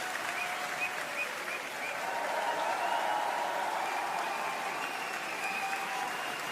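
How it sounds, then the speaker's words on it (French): Steady, dense applause from a sizable crowd, continuous and even for several seconds at moderate loudness. "Faites un tonnerre d'applaudissements pour monsieur"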